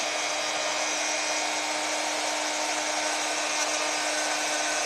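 A power drill bores into WoodUBend flexible decorative trim used on a plain clay plant pot, giving a steady, loud, continuous high whine that holds evenly throughout with no pauses and no talking.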